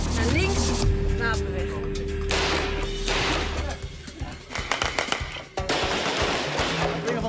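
Gunshots fired during arrest team training, several sharp cracks spread through the clip over steady background noise and movement.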